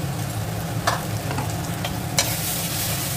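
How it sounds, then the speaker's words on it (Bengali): Turmeric, Kashmiri chili, coriander and cumin powders fry in oil in a pan with a constant close sizzle, broken by a few brief scrapes of a spatula stirring them. "একটু ভালোভাবে কষিয়ে নেব।"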